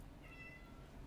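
A house cat gives a single faint, brief meow over a quiet room background, with no talking.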